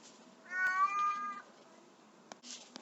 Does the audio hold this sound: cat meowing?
yes